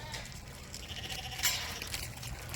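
Sheep and lambs bleating in a paddock in a grove on a small farm, several overlapping calls at moderate distance over steady low outdoor rumble, with one louder bleat standing out midway.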